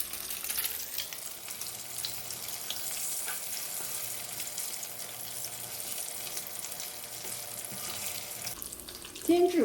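Tofu skin pan-fries in hot cooking oil, giving a continuous, even sizzle at low-moderate level. It is stirred now and then to keep it from sticking, and a brief voice cuts in right at the end.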